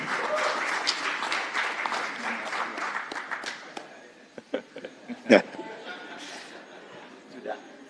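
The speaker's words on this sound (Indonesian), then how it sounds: "Kita berikan tepuk tangan yang meriah buat Pak Ganjar Pranowo dan Prof. Mahfud MD" Audience applause fills a hall at an Indonesian political event announcing a vice-presidential running mate, loud and dense for about four seconds, then thinning into scattered claps and a few voices.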